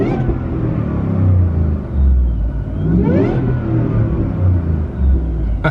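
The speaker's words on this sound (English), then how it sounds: "I just love that supercharger whine." The 750HP supercharged Shelby F150 pickup's engine runs close by with a steady, deep rumble, rising briefly in a rev with a faint high whine over it.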